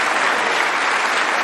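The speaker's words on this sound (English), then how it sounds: "there's the roar from the crowd" Snooker arena crowd at the Champion of Champions breaking into loud, sustained applause and cheering after a shot, a dense steady wash of clapping throughout.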